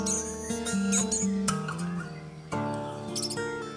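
An orange-headed thrush (anis merah) kept in a round cage, giving sharp chirping and whistled call notes close by in short bursts, over a background of other tonal sounds.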